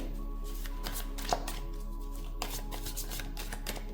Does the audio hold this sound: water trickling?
no